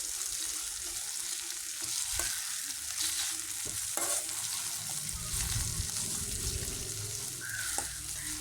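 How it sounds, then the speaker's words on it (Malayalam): Tomato and onion sautéing in a pan give a loud, continuous close sizzle broken by sharp clinks and scrapes of a spoon stirring, with no speech. "ഇനി ഈ തക്കാളി സവാളയെല്ലാം നന്നായിട്ട് വഴന്ന് വരട്ടെ."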